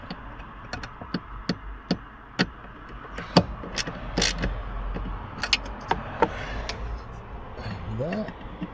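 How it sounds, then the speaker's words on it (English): Gentle tightening of three small screws holding the heater blower motor resistor in a Skoda Fabia Mk2, heard as scattered close clicks and ticks of the tool with faint rattles. "So once the 3 screws are in place, just gently tighten them up, and they're not particularly high torque."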